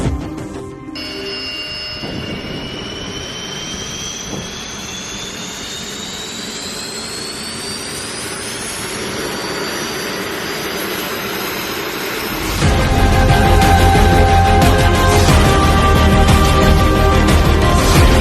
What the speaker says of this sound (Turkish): İtfaiye ve yer emniyeti kitleri yerlerinde motor çalıştırma için serbest.